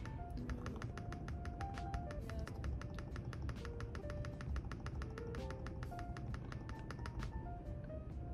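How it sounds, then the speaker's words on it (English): The F12 key on a laptop keyboard is tapped over and over in a fast, even rhythm of crisp clicks. Faint electronic beeps and a low background hum sit underneath. "I have to click the F12 key. Just gonna start clicking it"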